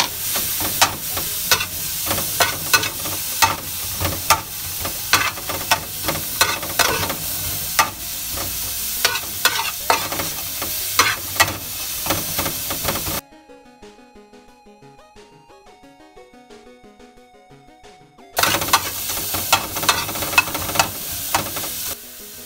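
Garlic sizzles in hot oil and is stirred with sharp utensil scrapes while pinakbet is cooked, the frying steady and loud apart from a quiet stretch midway.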